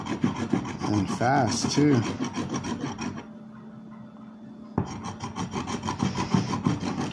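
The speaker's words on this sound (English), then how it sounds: "this coin scratches this ticket like butter" A coin scratching a lottery scratch-off ticket in quick repeated rasping strokes, close and loud, pausing briefly midway before resuming, with a voice speaking over the start.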